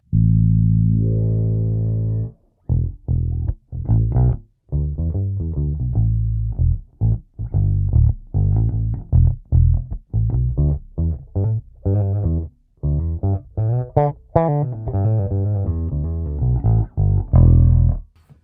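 Jazz bass guitar playing a busy run of plucked notes through a Lusithand NFP preamp bridge filter, deep and rounded with a touch of brighter definition, close and steady.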